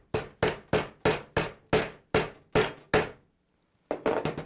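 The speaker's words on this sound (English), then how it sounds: "and then hammer it in." Sharp hammer blows drive staples into a wooden canvas stretcher frame, nine evenly spaced strikes, then a pause and a quicker cluster of taps at the end, close and distinct with no talk.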